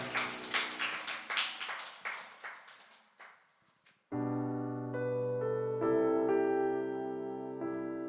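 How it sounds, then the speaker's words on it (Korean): A group claps in steady rhythm during a Sunday church worship service, fading away, then sustained keyboard chords swell in. "저 영광의 박수 하나님께 올리겠습니다."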